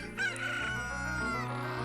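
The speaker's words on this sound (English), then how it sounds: "Oh, thank you, chicken. Thank you for serenading and doing the tenor harmony part for this audio." A rooster crows in The Legend of Zelda: Ocarina of Time, one long drawn-out cock-a-doodle-doo held steadily over continuous game music, with no talk.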